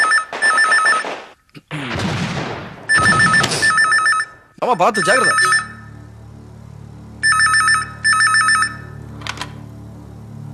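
A home telephone rings in loud repeated double bursts, with a person speaking briefly between rings in a Tamil television serial household scene.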